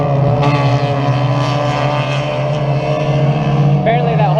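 A race car lapping a track at drivers school, its engine droning steadily at a distance as heard from a hilltop, with a sustained even roar throughout.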